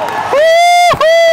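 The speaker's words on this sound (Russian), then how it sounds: "снимай, как все хлопают" An audience in a hall cheers at a mass 10-metre tower diving world-record event. One loud, sustained whoop or whistle rises over the crowd noise and carries near and bright through most of the moment.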